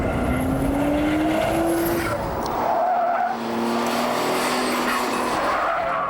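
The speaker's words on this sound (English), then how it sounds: "Every gear change sounds like 2 Darth Vaders shouting at one another" A car powered by a twin-turbo Ford Mondeo V6 races past, engine note rising in pitch and then dropping sharply as it changes gear, with tyre squeal and loud, close, continuous roar.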